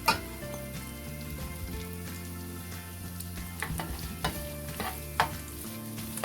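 Carrots frying in a hot pan with garlic and ginger give a steady, close sizzle, broken by scattered sharp ticks and stirring scrapes, with no talking.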